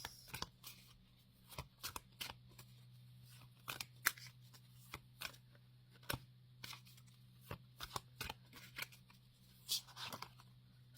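Wise Witch Oracle cards being shuffled make quick, papery riffling bursts. The brief clusters repeat irregularly at close range over a faint steady hum, with no talking.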